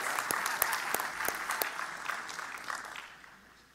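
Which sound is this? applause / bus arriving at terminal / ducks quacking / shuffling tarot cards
applause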